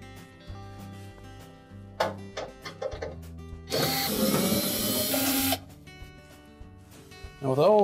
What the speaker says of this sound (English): There's a total of 13 quarter inch hex head screws that we'll want to remove off both sides, across the top